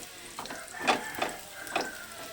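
Garlic sautés in a pan with a soft, low sizzle, broken by a few quick stirring scrapes spaced across a couple of seconds. It stays fairly quiet, with no speech.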